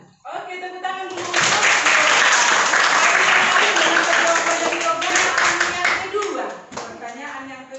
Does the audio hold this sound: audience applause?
yes